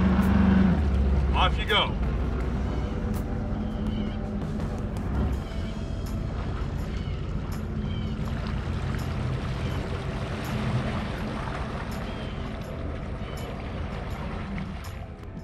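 A personal watercraft engine rumbles low and steady as it reverses off a trailer into the water at a launch, with a brief spoken phrase early on.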